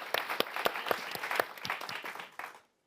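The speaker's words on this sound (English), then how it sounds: "So I'd like to give you a round of applause for that" An audience at a youth summit in London gives a short burst of applause, with sharp distinct claps that fade and stop just before the end.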